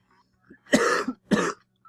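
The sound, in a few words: cough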